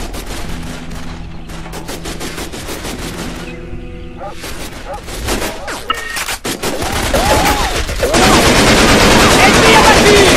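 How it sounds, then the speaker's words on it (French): Bursts of automatic gunfire and single shots in the jungle shooter game Raven Squad: Operation Hidden Dagger, dense rapid rattles that swell into a loud continuous barrage, with brief voices in between. "Il me tire dessus."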